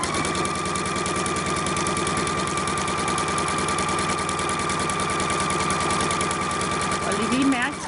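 A sewing machine stitches a shirt collar with a fast, steady mechanical rattle that continues throughout, close and loud, and slows just before the end; a voice talks over it.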